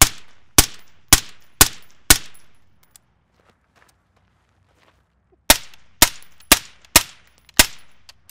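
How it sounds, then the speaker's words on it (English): Suppressed 5.56 rifle shots from a 10.5-inch barrel comparing a Sierra 5 and a CGS silencer: five sharp, evenly spaced reports, a pause, then five more, loud and close with short decaying tails. "So he's gonna shoot 5 rounds and then I'm gonna shoot 5 rounds."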